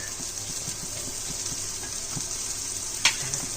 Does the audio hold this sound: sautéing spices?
yes